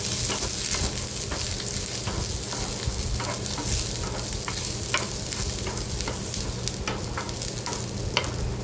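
Ingredients stir-fried in a little oil for a vaal bean (birde) curry give a steady, continuous sizzle, with repeated scraping stirs throughout and no talking.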